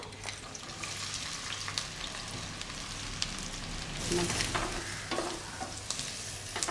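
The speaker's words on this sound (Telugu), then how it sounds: "ఇప్పుడు ఇందులో మనం పెద్ద సైజు ఆనియన్స్ కట్ చేసి పెట్టుకున్నాం కదా ఇవి కూడా వేసేస్తున్నాను" Large chopped onions dropped into hot oil with already-fried green chillies for a chicken curry, a steady close sizzle and crackle with occasional stirring, louder after the onions go in.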